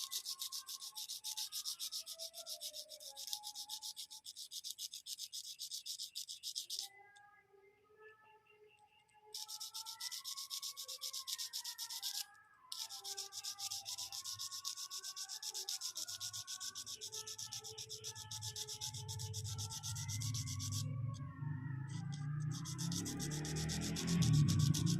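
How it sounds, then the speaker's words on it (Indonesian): Steady close-up rubbing and sanding of a Yamaha Vega or Jupiter motorcycle part, turned slowly by hand as abrasive paper scrapes across it in a continuous rasping stroke with two short pauses, and a low hum building near the end. "Sambil diputar pelan-pelan kita gesek-gesek terus seperti ini."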